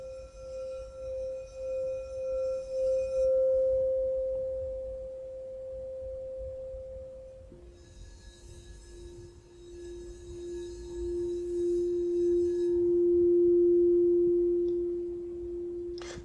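An 8-inch C crystal singing bowl sings with a sustained, pure, ringing tone that holds steady and loud, then gives way midway to a lower, equally smooth drone, with no talking.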